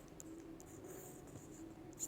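A pen writing on paper, soft continuous scratching strokes close by, faint and steady for about two seconds with no talk.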